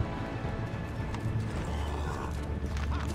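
Horse hooves gallop in Assassin's Creed 3 with a steady clip-clop rhythm over a low rumble, plus a brief neigh, set in an outdoor game scene with faint background noise.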